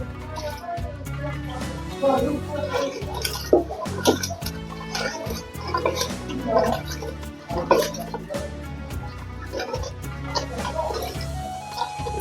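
Water is poured into a cooking pot in a Bosnian home kitchen while a jam-coloured iftar dish is being prepared, giving a gurgling, bubbling pour with drips amid other kitchen sounds.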